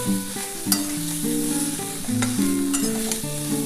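Bitter gourd, eggplant, green plantain and potato fry in a pan with a little oil, a steady close sizzle broken by occasional stirring scrapes, while background music plays.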